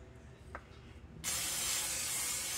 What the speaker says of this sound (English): I'm gonna take this butter spray